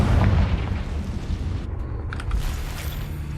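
The Confringo fire spell exploding in Hogwarts Legacy, a loud, close, booming blast right at the start that decays into a rumbling tail with crackles.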